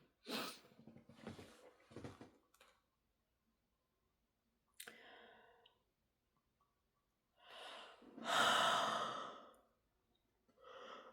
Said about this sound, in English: excuse me, I'm sorry to be yawning